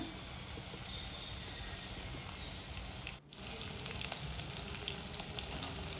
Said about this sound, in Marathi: आता टोमॅटोला व्यवस्थित भाजला म्हणजे तूप सुटलं की आपण धने जिरे पावडर घातली आहे एक चमचा